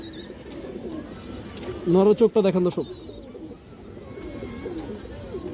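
A pair of gola pigeons with chicks in a home loft coo in a short, rolling run of low throaty calls near the middle, with someone speaking over and around them.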